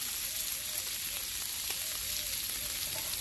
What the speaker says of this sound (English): use the bacon grease in order to do them smash burgers